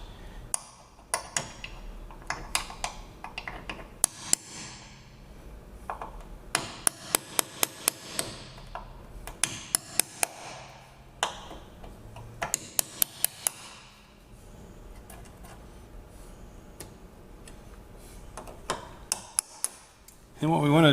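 Rapid metallic tapping of a hammer on a small pin punch, driving pop rivets out of a race-car panel in bursts of sharp clinks separated by pauses, close and fairly crisp.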